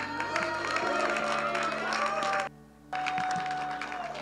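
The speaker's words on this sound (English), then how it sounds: "while I appreciate the applause" A church congregation applauding and cheering as a pastor comes up, a dense wash of clapping and crowd noise with a brief drop midway, fairly quiet and distant, with music or voices faintly underneath.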